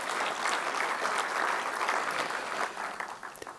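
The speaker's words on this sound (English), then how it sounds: "Let's have a big round of applause for Dr." An audience at a talk on healthy lifestyle gives a full round of applause, a dense, even roar of many clapping hands that holds steady before thinning out at the end.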